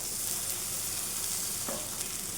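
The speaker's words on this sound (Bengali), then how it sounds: "দিলে মশলাটা পুড়ে যাবে না আর দিয়ে দিচ্ছি কাঁচা লঙ্কা" Green chilies and spices fry in fish oil with a steady, close sizzle, a brief stirring scrape standing out midway, no voices.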